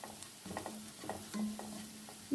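A short burst of onion, chili and curry leaves frying in a pan: a low sizzling hiss under a few close scrapes and stirring knocks, swelling louder at the end.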